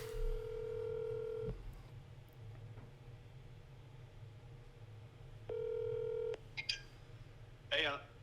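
A phone rings out on a call, two long steady electronic ring tones separated by a pause, with faint room noise and a few short voices and clicks between them.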